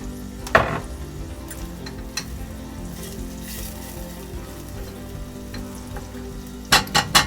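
Shallots frying in a small pan over low heat give a steady, close sizzle, broken by a few louder clatters of stirring near the start and the end.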